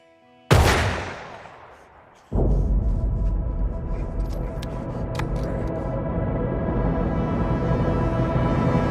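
A loud gunshot cracks in a film scene and decays, then a second burst opens into sustained rumbling fire and ringing debris that carries on to the end.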